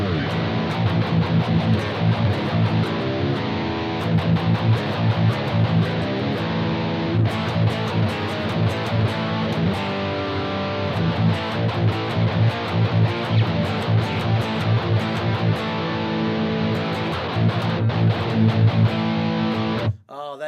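WSM 7-string electric guitar tuned to drop A, heavily distorted and chugging dense palm-muted riffs for a long continuous stretch, loud and close, ending abruptly.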